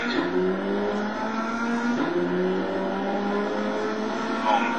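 Rally car engine in the WRC 4 video game, steady harmonic drone with a rise in pitch around mid-clip as it revs through gears, continuous and close throughout.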